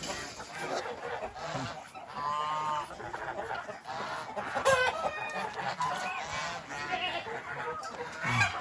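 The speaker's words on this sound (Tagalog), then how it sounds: "Pakainin natin itong manok naman." Chickens and other backyard fowl cluck and honk at feeding time, with overlapping calls near and far, busy and irregular, and no talking over them.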